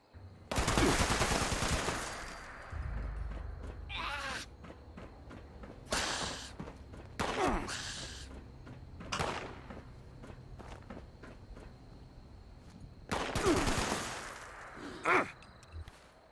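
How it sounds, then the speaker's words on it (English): Gunfire aimed at the player in the video game Fallout 76, several loud bursts of rapid shots separated by pauses, with footsteps and quieter movement between volleys. "who's shooting at me?"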